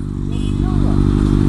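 A Kawasaki Ninja ZX6R super sport motorcycle engine runs with a steady, close, low droning rumble that holds evenly throughout.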